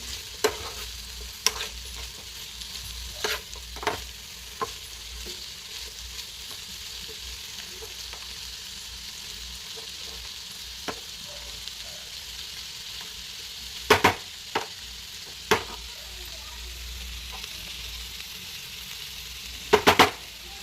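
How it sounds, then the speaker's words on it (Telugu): Thinly sliced ivy gourd (dondakaya) stir-fries in a pan, a steady soft sizzle broken by occasional sharp clinks of a spatula stirring against the pan, with no voices. "సన్నగా తరిగిన దొండకాయలని యాడ్ చేస్తున్నాను. వేసుకున్నాక బాగా కలుపుకోవాలి మిక్స్ అయ్యేలా."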